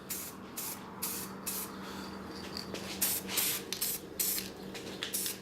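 Spray paint hisses onto brushless motor kit parts in a series of short, light bursts, about a dozen quick spritzes with brief pauses between, close and fairly crisp, with no talking.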